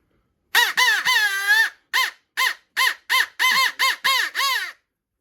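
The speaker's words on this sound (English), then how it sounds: "But this is like a crow call." A series of about ten harsh crow caws, made with a call, in quick uneven bursts, the first few longer and drawn out, with silence between.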